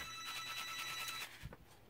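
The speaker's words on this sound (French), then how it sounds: "le téléphone sonne" A telephone rings in the background of a home craft session, a faint, steady, bright electronic trill that carries on for over a second and then stops, with no talking.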